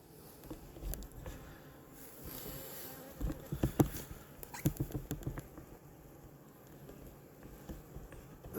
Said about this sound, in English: We're gonna turn the camera around and check on the bees for a minute or two